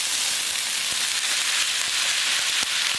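Cooked, drained rice goes into a hot frying pan for Sri Lankan tempered rice and is stirred, giving a steady, loud sizzle with faint scraping ticks throughout.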